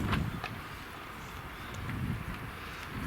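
Wind blows steadily outdoors in gusty rumbling buffets against the microphone, with faint rustling and no talking during the stretch.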